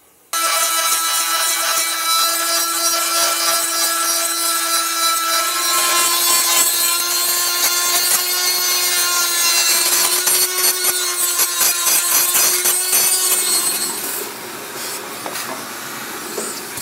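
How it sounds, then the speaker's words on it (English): Material is cut out against a stainless steel edge while fitting an air box for a Ski-Doo turbo intercooler. A loud, continuous rasping, sawing noise carries a steady tone for about fourteen seconds, then eases off. "I'm cutting against a stainless steel edge"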